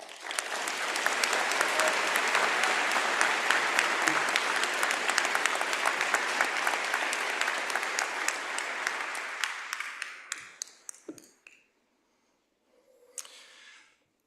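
University convocation audience applauding, a dense, loud, sustained burst of clapping from a large crowd that gradually thins out and fades to a few scattered claps, followed by a short stir of movement.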